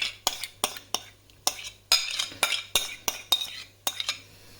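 A metal spoon scrapes and clinks against a pot in a steady rhythm of about a dozen sharp strokes while chicken fatteh ingredients are stirred, close and clear with no talking.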